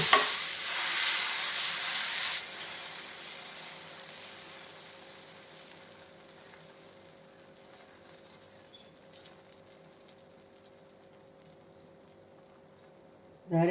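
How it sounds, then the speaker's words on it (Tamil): Protein dosa batter sizzles on a hot oiled dosa pan, a loud bright hiss in the first two seconds that drops to a softer steady frying crackle over a low hum. "தோசை ஊற்றிடலாம்."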